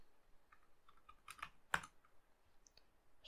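Someone types a password on a computer keyboard, a faint, sparse run of soft key clicks with one sharper tap, in a quiet room with no talk.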